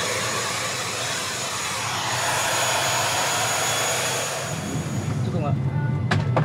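Inside an airplane cabin, a steady broadband engine roar hums on, then shifts to a rougher, louder rumble with a few faint clicks near the end.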